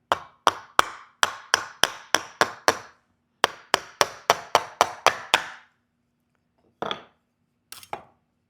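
A heavy hammer-style blade chops a squash into wedges, about a dozen quick, sharp, evenly spaced strikes on a cutting board, a short pause, another run of chops, then two isolated knocks.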